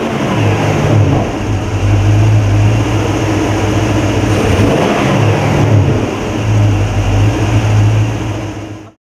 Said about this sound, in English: This car is built with the original 289 Windsor engine, but one of the key points of this car, it's fitted with modern fuel injection, ensuring first time starting